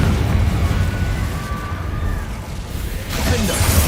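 Confringo spell blasts in the video game Hogwarts Legacy: a sustained, loud explosive roar with crackling debris, dipping briefly before a second blast swells near the end.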